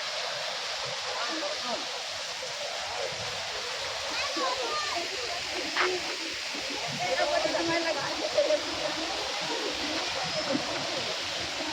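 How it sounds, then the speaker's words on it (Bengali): A waterfall in a rock garden in Darjeeling, heard as a steady, loud rushing wash of falling water that fills the whole stretch, with faint voices murmuring underneath. "আর একটু ভালো করে ঝর্ণা দেখায়"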